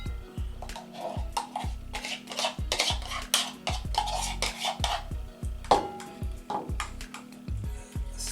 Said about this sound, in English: Now I'll mix my pepper with mustard.